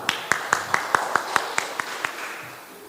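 Audience hands clapping at a student gathering in Biak Numfor, a short run of about a dozen sharp, evenly spaced claps that fade out near the end, moderately close.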